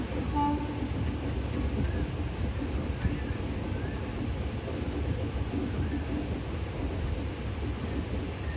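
Train pulling away from a halt near Kumbalam and shaking hard, giving a continuous dense low rattle and rumble of the moving carriage, steady and close throughout.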